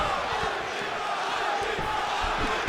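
A steady arena crowd roars and cheers throughout a UFC 5 video game bout, continuous and dense.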